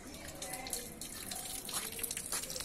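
Water from the Fonte da Bica spring fountain, a steady splashing flow with scattered drips, moderately close and continuous.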